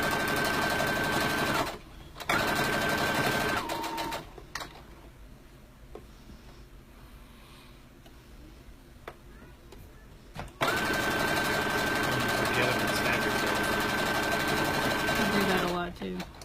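A sewing machine stitching fabric armbands runs in loud close bursts, stopping for a long pause in the middle, then whirring steadily again, with a person talking now and then.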